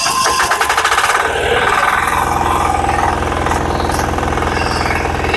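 A 9 HP self-start power weeder engine runs loudly and steadily close by, a rough rapid chugging with a metallic rattle throughout.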